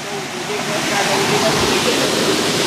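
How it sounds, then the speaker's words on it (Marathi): Loud, steady rush of water gushing under pressure from a main water pipe broken by a JCB excavator, a continuous broadband roar with no pauses, close to the listener, at Duler, Mapusa. "पळय घसघसो वता धबधबो जाला धबधबो"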